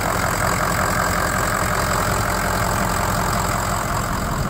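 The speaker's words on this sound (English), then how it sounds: "here's a look up underneath the hood while the truck's running" A 2004 Ford Excursion Limited with 149,000 miles, its engine running steadily under the open hood, heard up close as a loud, continuous idle with a busy mechanical clatter and no talking.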